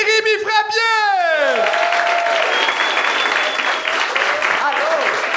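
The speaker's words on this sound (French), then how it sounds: "Mesdames, messieurs, un tonnerre d'applaudissements pour Jérémy Frappier!" A studio audience at a televised French-language talent show bursts into loud, sustained applause and cheering, with a voice sliding up and down at the start before the dense clapping takes over and holds steady.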